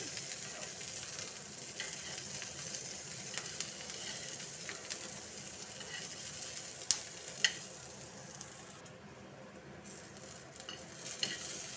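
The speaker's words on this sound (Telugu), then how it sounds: "పచ్చిమిర్చి సిమ్ మీద వేగుతూ ఉండాలండి" Green chilies frying gently in a pan over low heat, a constant low hiss and sizzle with a few light clinks of a utensil, quiet and close, with no one talking.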